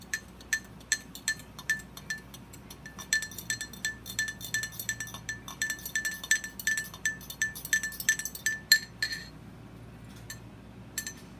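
A fork stirs inside a glass for a science experiment, tapping out quick repeated clinks against the glass in an uneven rhythm that fades near the end, close up with no talking.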